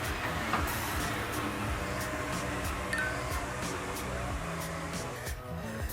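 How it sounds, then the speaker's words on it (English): A Paris metro subway train rumbles steadily with mechanical hum and periodic clicks and rattles, a continuous moderate-level drone with faint background voices. "here it is, the famous Parisian subway, also called the metro"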